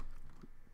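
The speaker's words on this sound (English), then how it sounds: "Now go to your command prompt and type in" Keys tapped on a computer keyboard while a command is entered, a few quiet, close clicks at a soft level with no voices.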